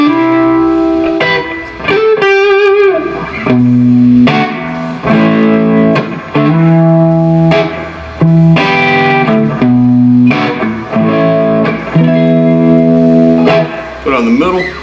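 A Jackson electric guitar plays a clean tone through the neck pickup with the volume rolled back, strummed chords and ringing notes in distinct phrases separated by short pauses, loud and close.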